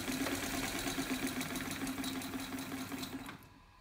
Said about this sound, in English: I just want to show you how fast this thing could go.